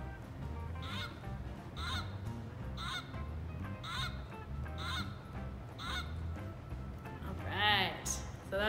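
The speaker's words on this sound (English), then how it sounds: "So that's the Canada goose." Canada goose honking in repeated loud calls at roughly one-second intervals, close by, with a busier burst of honks near the end.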